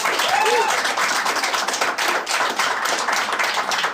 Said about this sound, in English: Not applause from everybody